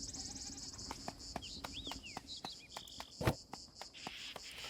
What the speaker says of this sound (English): We have another goat!